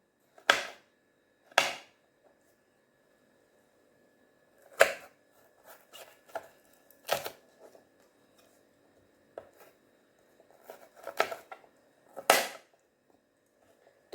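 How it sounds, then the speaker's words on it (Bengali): A knife slices baby corn on a cutting board, landing about ten sharp, separate chops at irregular intervals with quiet pauses in between. "তো ঠিক এই রকম শেপে কেটে নিলাম।"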